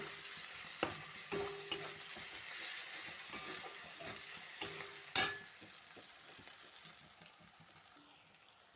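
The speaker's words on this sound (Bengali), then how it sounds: "এই দুটোকে ভালোভাবে আমি নেড়ে চেড়ে ভাজবো" Ingredients frying and being stirred in a pan over a gas stove: a soft, steady sizzle under a string of sharp spatula taps early on, the stirring stopping and the sizzle quieting toward the end.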